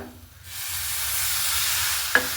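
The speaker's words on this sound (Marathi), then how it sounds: "हे आपल्याला एक पाच मिनटं परतून घ्यायचं आहे" Coconut filling with added coconut milk sautéed and stirred in a pan for sweet saffron khoa modak, giving a steady soft sizzle after a quiet start, with one brief utensil clink near the end and no voices.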